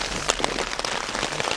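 Heavy rain pours down at night on a campsite along the Colorado Trail, a dense, steady hiss of drops drumming on surfaces with a few sharper spatters, continuous and close with no voices.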